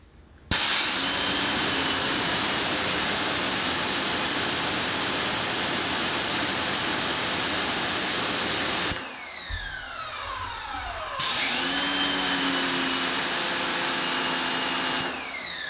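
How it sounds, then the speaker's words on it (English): A Westinghouse EPX3050 electric pressure washer, a 2050 psi, 1.76 gpm model, runs with a loud, steady motor and pump whine. It briefly drops in level and pitch with a sweeping tone before resuming full power, then cuts off at the end. "plug this guy in and test it and see if we can get that PSI up"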